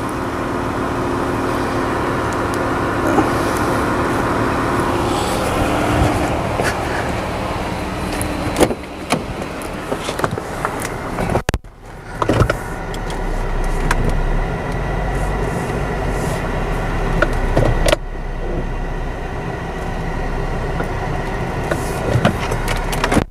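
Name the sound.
car driving over a flashlight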